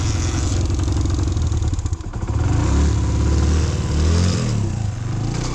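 A motorcycle engine running loud and close in the Zanskar Valley of Ladakh, with a heavy mid-pitched drone that dips briefly and then rises again as it revs.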